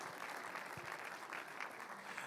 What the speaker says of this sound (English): let's have another round of applause for Alexei and for all the great speakers that we had today